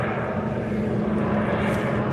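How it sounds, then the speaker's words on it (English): A propeller airplane drones steadily overhead, a continuous moderately loud engine hum with no voices over it. "there's a plane going overhead,"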